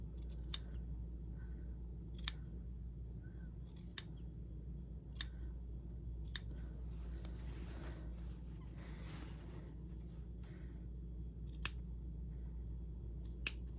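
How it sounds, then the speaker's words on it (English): Fabric shears snip through seam allowances in sharp, isolated cuts, about eight spaced clicks over a quiet background, close and crisp. "you want the tip of your shears to be as close to that stitch line as you can get without cutting through it"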